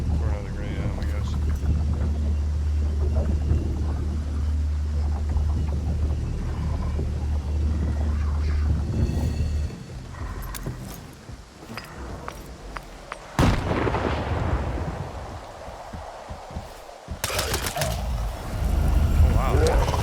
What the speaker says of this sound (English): Throw another grenade at him, I guess.